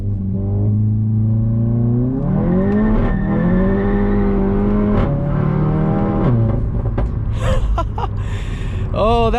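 A car with a TCU tune launches hard off launch control. The engine revs up loudly and close by, then rises and dips through several pitch sweeps before easing off near the end.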